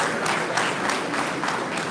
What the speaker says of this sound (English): I thought that requires a round of applause.